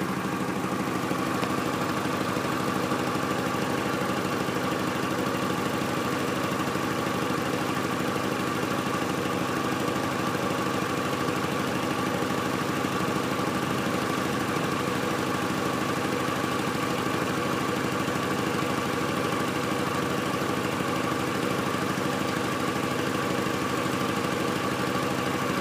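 A 1995 Honda Accord's 2.2 VTEC engine idles steadily and evenly for the full length, a constant close mechanical hum with no talk over it.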